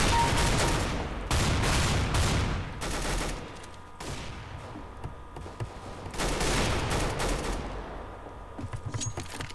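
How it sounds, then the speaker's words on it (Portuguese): A machine gun fires repeatedly in the video game CS:GO, delivering loud, dense bursts of rapid automatic fire with brief pauses between volleys and no speech. "agora eu tô com, mano, uma metranca aqui louca"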